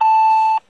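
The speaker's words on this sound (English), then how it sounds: "Please leave your message after the tone." Voicemail recording tone on a phone answering service: a single loud, clean electronic beep lasting just over half a second, alone, then silence.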